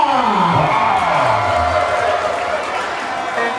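Crowd shouting and cheering at a friendly football match, a loud, continuous roar of many voices throughout, with whoops rising above it.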